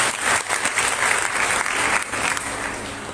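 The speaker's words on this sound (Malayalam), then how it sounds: "നല്ലൊരു കയ്യടി നൽകിക്കൊണ്ട് റഫീഖ മാമിനെ നമുക്ക് സ്വാഗതം ചെയ്യാം." Sustained applause from an audience at a college event, welcoming a guest to the stage; dense, steady clapping fills the whole stretch at close range with no voices over it.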